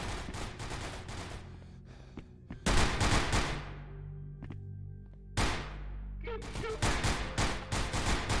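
Bursts of rapid gunfire from a video game in a spooky hillside setting, loud, close volleys separated by brief pauses with lingering echoes and tones, ending in dense repeated shots.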